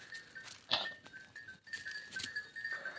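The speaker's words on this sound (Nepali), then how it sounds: "अर्को बाख्राहरू पनि पछाडि आइसक्या रहेछन्।" Goats grazing outdoors in quiet mountain countryside move closer, giving a faint bleat amid soft rustling and a thin, steady ringing tone.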